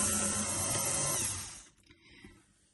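Stand mixer kneading saffron bun dough, a loud steady motor whir with a dense rumble that cuts off after about a second and a half, leaving faint clatter.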